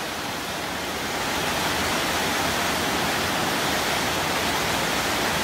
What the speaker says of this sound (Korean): 동굴의 폭포입니다.